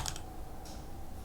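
A few quick keystrokes clack on a computer keyboard while code is written, close and fairly quiet, with no one talking.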